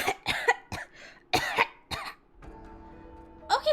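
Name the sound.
character coughing, from the video game Hakuoki: Kyoto Winds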